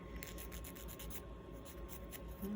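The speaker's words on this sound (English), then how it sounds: "It's fairly easy to file off. I don't recall the grit of this, but I think it's like 100 grit." A coarse 100 grit nail file rasps steadily across cured gel nail polish. The scratching is close, soft and continuous, and there is no talking.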